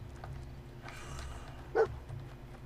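A dog in the video game Fallout 4 gives a single short bark over quiet ambient game sound, faint and brief.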